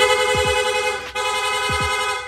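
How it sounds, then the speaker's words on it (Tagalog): A motorcycle horn honks in quick bursts, two rapid toots, a pause, then two more, loud and close over a steady electrical hum. "Rapid horn."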